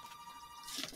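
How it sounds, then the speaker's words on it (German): A telephone rings with a steady, moderately faint electronic tone, briefly, ending in a brighter, noisier burst. "Hier klingelt das Telefon."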